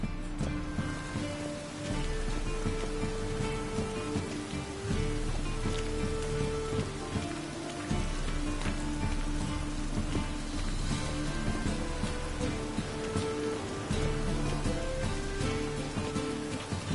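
Rain falling in a town in The Witcher 3, a steady, dense patter of drops on surfaces that carries on without a break, with a low musical score underneath and no talking.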